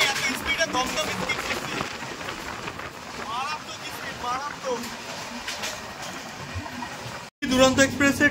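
Aboard the 22201 Puri Duronto Express, running from Sealdah toward Puri past Dakshineswar station, a steady low rumble and rattle of the moving train carries on under people talking, with a brief dropout near the end.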